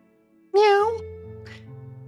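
A person's voice imitates a cat's meow once: a loud, drawn-out, wavering wail over soft, steady background music from the game OMORI.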